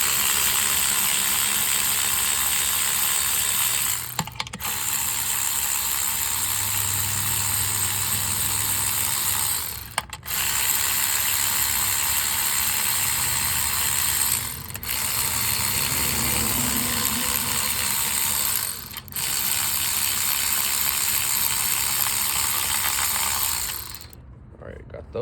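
Ratchet loosening 13 mm bolts on the 3.6 engine of a 2011 Cadillac CTS during valve cover gasket work, rapid clicking in several long bursts separated by short pauses, close and fairly loud, with occasional low knocks.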